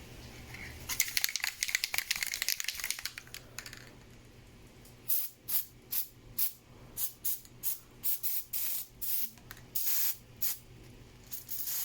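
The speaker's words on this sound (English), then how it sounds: "just before I spray this part with the Permatex" Aerosol gasket remover sprays onto a powder-coated part: a long hissing burst, then a series of short, evenly spaced spray bursts, close and fairly loud.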